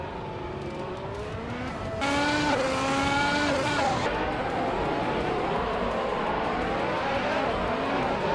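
Race cars in a racing video game, including a 2017 Ferrari, roar past at speed with rising and falling engine whines and layered revving. The sound grows louder midway as more cars join, then holds at a steady high level.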